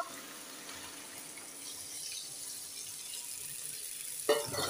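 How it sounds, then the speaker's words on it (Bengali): Water runs into a sautéed potato curry in a pan, a faint hiss and trickle that builds slowly, then ends with a short splash and clatter. "আমি ঝোলের পানি অ্যাড করে দিব।"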